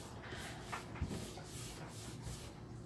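Furniture glaze is worked into a wood finish by hand along the grain, a soft, steady rubbing and brushing texture, quiet and close, with faint repeated strokes.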